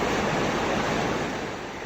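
Strong rushing floodwater during a rescue in Puerto Princesa City, Palawan, a steady loud broadband roar of churning water, continuous and close, with no voices.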